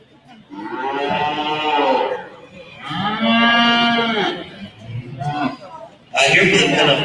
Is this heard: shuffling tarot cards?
no